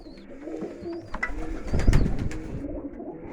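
Pigeons coo softly and repeatedly nearby, their low rolling calls mixed with faint rustling and a few higher chirps.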